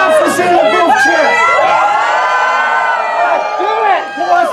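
Audience at a live costume-themed show cheering loudly, a dense mass of whoops, shouts and yells that swells and holds for several seconds.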